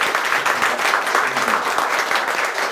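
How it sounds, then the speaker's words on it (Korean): An audience at a book talk for a biography of Roh Hoe-chan gives the author a round of applause: steady, close, fairly loud crowd clapping through the whole short stretch. "작가님께 힘찬 박수 부탁드리겠습니다."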